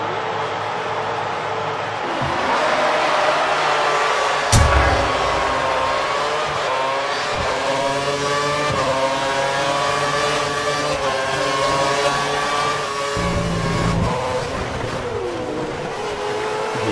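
Formula 1 cars in a racing video game roar at the start of a race, engine notes rising and overlapping in a loud, steady drone for the whole stretch, with a sharp knock near the middle.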